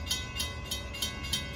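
An 8-car Long Island Rail Road Central Branch train led by locomotive 403 nears the Straight Path grade crossing as the gates lower, a crossing bell clanging about three times a second over a steady low rumble.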